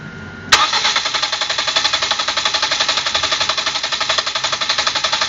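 A car engine cranks steadily with its fuel injectors disconnected during a compression test, the starter turning it over in a fast, even rhythm of repeated pulses after a sharp onset, loud and close with no voices.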